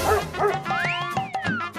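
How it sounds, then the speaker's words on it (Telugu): A dog barks and yelps close by in a quick series of sharp, whiny calls with rising and falling tones. "ఒరే పుష్పరాజు, ఆ పక్కిలో కుక్క మీద అరిస్తుందిరా."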